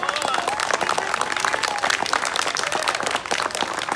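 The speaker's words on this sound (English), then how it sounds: "If you clap loud enough, Hansel will live." An outdoor theater audience claps loudly and continuously, a dense roar of applause with voices and cheering mixed in throughout.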